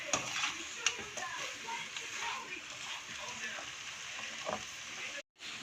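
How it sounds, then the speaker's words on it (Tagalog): Chili garlic prawns fry in a pan while being stirred, a faint steady sizzle with occasional scraping clicks and background voices, cutting out briefly near the end. "Keep on stirring. Keep on mixing."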